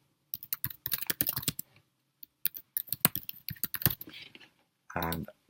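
Keys clack in quick, irregular bursts on a computer keyboard as an email ID is typed into a login page, close and clear with short pauses between runs, ending in a brief louder tonal sound.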